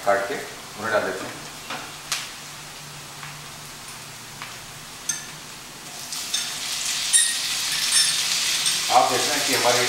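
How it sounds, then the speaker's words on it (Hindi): Chopped tomatoes go into onions frying in a pan for Indian egg bhurji, a steady sizzle that swells into a louder, brighter hiss in the second half, with brief stirring clinks and a voice talking at the start and end. "अब इसके अंदर हमने जो टमाटर रख रखे हैं काट के उन्हें डाल देते हैं।"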